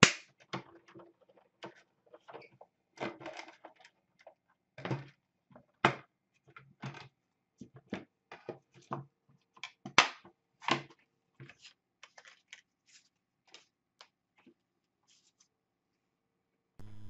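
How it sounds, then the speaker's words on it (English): A die cutting machine pressing a sandwich of thin metal cutting dies and foil, heard as a series of sharp close clicks and snaps in an irregular run, loud and isolated against near silence. "I will whiz that through the die cutting machine"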